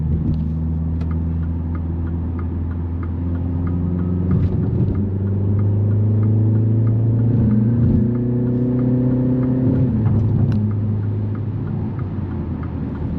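A 2025 MINI Countryman S All4 accelerates on a test drive, its engine note climbing through the gears with rising and falling tones over a steady cabin rumble, loud and close from inside the car.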